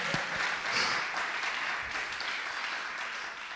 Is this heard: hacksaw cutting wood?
no